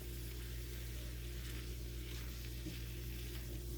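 Meat base with dehydrated parsley simmering in a pan: a steady, soft sizzling and bubbling hiss with a low hum underneath, continuous and close.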